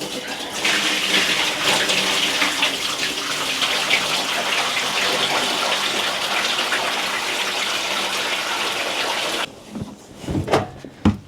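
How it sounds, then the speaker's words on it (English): Soaking water is poured from a bucket, a loud continuous gushing splash lasting about nine seconds before cutting off into a few drips and knocks. "I'm going to pour that out and then stick a wash on"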